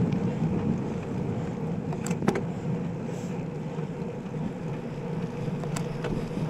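Steady wind rushes over the microphone while cycling into a headwind on an open gravel road in New York, a continuous broadband roar with a few brief clicks, no talk.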